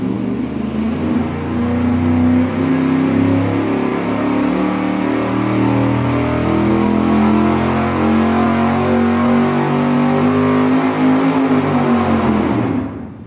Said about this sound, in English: we're going to do a regular straightforward dyno pull as we always do at an acceleration of 300 RPM per second